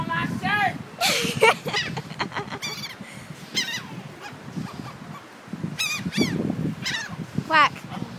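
Geese-like birds squawk and honk in repeated bursts at close range, with people talking and laughing around them.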